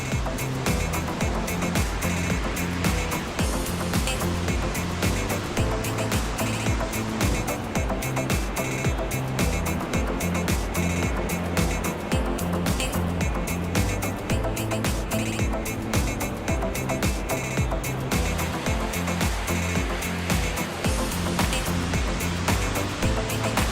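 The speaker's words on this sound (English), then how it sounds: "Just listen to that water roar." Water roars continuously near a mountain hiking viewpoint reached over loose scree and talus, a loud steady rushing wash with no break throughout.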